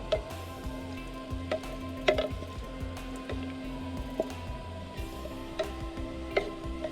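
Wooden spoon stirring bone broth in an MSR Reactor pot over a camping stove: soft scraping and clicking strokes, a few sharper knocks against the pot, over a steady low burner roar with a faint sizzle, close and moderately quiet.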